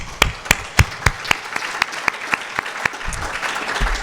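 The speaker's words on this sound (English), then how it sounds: "So I want a great big applause from you for being here." An audience claps for people being thanked: a few sharp, separate claps at first, swelling into fuller, denser applause near the end.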